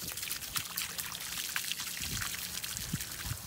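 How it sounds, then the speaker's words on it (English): Water pours and trickles steadily over a large rescued tortoise as it is rinsed clean, a soft continuous splashing with scattered drips close by. "we're just gonna rinse him down"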